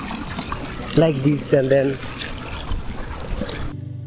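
Clean stream water trickling steadily around a camp in Ladakh, close and continuous beneath someone talking.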